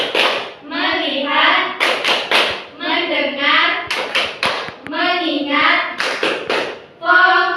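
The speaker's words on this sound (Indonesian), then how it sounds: "Tepuk fokus." Children in a classroom clap in short rhythmic bursts as part of a focus-clapping activity, alternating with group chanting in unison, close and clear.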